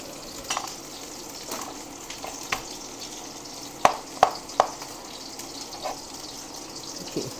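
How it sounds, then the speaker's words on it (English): Garlic fries in a pot of duck curry, giving a soft continuous sizzle broken by a few sharp clicks and taps. No voices can be heard. "I'm going to put another one and let that fry up in the curry"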